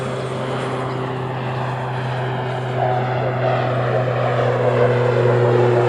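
Aircraft at Honolulu airport give off a steady engine drone, propeller-like in tone, that stays close and fairly loud and swells slightly partway through.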